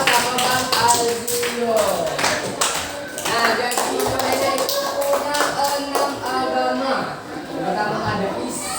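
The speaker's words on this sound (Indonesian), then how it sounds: "Oke, tepuk tangan dulu untuk Bang Dava." Classroom applause for a student, a burst of many hands clapping together that runs steadily for several seconds, with talk mixed in.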